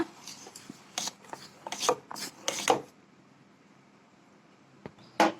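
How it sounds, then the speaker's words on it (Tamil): A ladle scrapes and stirs curd in a bowl in a few short rasping bursts, then a quiet pause before one last scrape. "இதை ஒரு கரண்டி வச்சு நல்லா மிக்ஸ் பண்ணிக்கோங்க."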